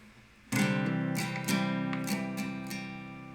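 A strummed guitar chord rings out, followed by a few quick picked notes including a hammer-on, sustaining clearly with no voices.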